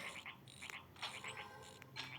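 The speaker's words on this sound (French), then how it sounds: "J'adore cette grenouille." A frog croaking in the horror video game Haunted Dorm: repeated short chirping croaks in quick clusters over a constant background ambience, fairly faint and with no talking.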